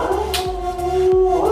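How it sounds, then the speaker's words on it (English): A dog howls with a high wavering tone and whimpers close up, loud and continuous over a short stretch, while a low rhythmic thumping runs beneath it. "that's my dog"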